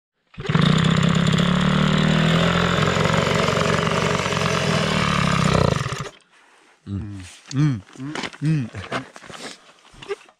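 A repaired engine, likely a motorcycle or small motor, roars loudly and steadily for about six seconds, then cuts out; afterward a voice speaks in bursts.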